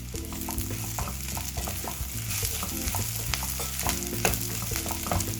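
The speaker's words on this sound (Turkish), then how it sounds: "acı pul biberimizi ilave edip şöyle bir karıştırıyorum." Bulgur pilaf with red pepper flakes stirred in a pan, a steady sizzle with repeated scraping clinks of the spoon against the pan throughout, close and fairly loud.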